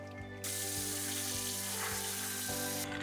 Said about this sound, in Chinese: 除去浸泡的水